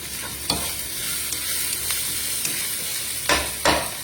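Onion, garlic, ginger and curry leaves frying in a pan, giving a steady close sizzle with a few sharp scraping stirs at the start and near the end; no talking.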